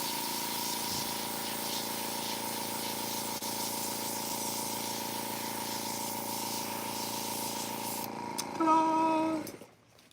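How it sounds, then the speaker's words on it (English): An airbrush sprays cleaner in a steady, continuous hiss, close and fairly loud, with a brief shift in tone near the end before it cuts off into quiet. "might help you turn the airbrush on. Put a little bit of cleaner in it"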